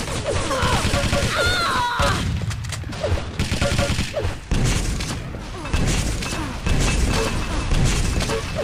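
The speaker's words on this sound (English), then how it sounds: "Oh, great rockets from FRS" Rocket launcher fire and blasts in a Quake team deathmatch, heard as loud, dense bursts and booms that crowd the scene, with a sharp drop near two seconds and heavy impacts continuing after.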